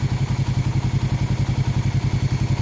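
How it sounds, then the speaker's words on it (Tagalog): Suzuki Raider Fi 150 motorcycle with its radiator fan spinning, heard as a steady, loud, close rhythmic engine throb pulsing rapidly and evenly throughout, with no talk. "Kaya umiikot yung radiator fan"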